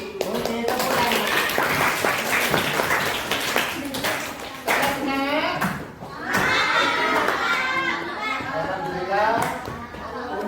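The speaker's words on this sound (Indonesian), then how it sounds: "Oke, tepuk tangan." Students in a school classroom clap together in a long burst of dense, lively applause, with voices cheering and chattering over and between the claps.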